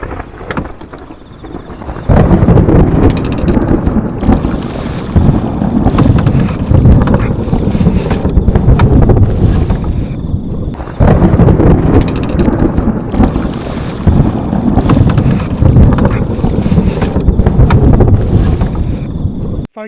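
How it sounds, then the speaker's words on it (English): Heavy thunder rumbles loud and close, a deep roaring storm with rushing wind that swells, briefly eases, then surges again. "the storm's getting very close, the lightning's getting closer, the thunder's getting louder"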